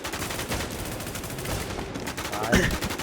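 Gunfire from a long-range gun in an online video game, rapid repeated shots in a dense continuous burst, loud and close.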